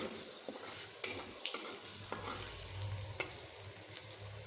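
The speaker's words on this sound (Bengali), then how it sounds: "কালো জিরেগুলোকে আমি ফোড়ন দিয়ে দিচ্ছি আমার কাঁচা লঙ্কা ও কালো জিরেগুলো এই ফোড়নগুলো একটু ভেজে নেব" Green chillies and nigella seeds fry as a tempering in hot oil, giving a crackling sizzle with sharp pops and spatters over a low hiss, plus occasional clinks of stirring.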